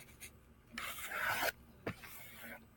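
A knife edge stropped on plain cardboard, shedding metal burr, making a few close, quiet rasping strokes with short pauses between them.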